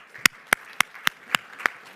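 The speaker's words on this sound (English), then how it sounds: "but give them a round of applause." Students in a university lecture hall clapping, heard as six sharp, evenly spaced claps close by, about one every quarter second, with quiet room noise between them.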